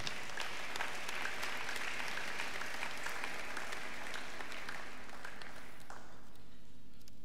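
A church congregation at a Sunday service applauds together, a dense close clapping that holds steady for several seconds before fading out near the end.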